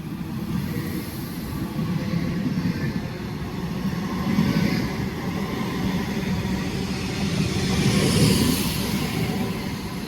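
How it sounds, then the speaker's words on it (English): A train rumbles at Wigan North Western station, a steady low roar swelling slightly as it approaches from a distance, with no voices over it. "Oh, there's a train coming there."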